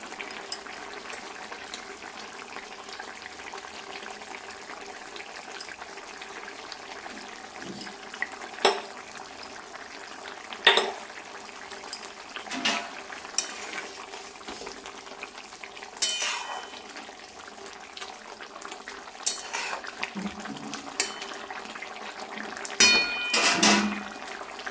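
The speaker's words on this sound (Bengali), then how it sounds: "মাছগুলো দিয়ে 4 মিনিট অবধি আমি ফুটিয়ে নিচ্ছি।" A fish curry made with raw green tomato simmers in a pot, giving a quiet bubbling bed broken by scattered clinks and scrapes of a utensil against the pot, a few sharper knocks near the end.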